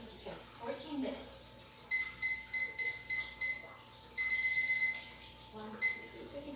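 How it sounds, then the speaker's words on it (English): An oven timer is set for a chocolate cake with a run of quick electronic beeps from button presses, in short clusters, while a person talks over them nearby. "And then let's do the timer."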